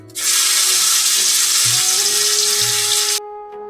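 Crushed garlic cloves and green chilies hit hot oil in a pan, bursting into a loud, steady sizzle that holds for about three seconds before cutting off abruptly.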